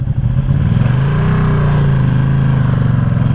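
Engine of a 2020 Ducati Panigale V2 motorcycle, a loud, close, steady low rumble at idle with a slight swell partway through, heard alone.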